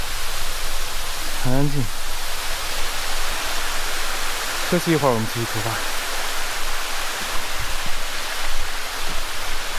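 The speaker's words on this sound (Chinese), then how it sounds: "因为旁边有个小溪，听起来很爽。" A small mountain stream flows beside a large rock in deep forest, a steady hiss of rushing water filling the scene while someone speaks briefly twice over it.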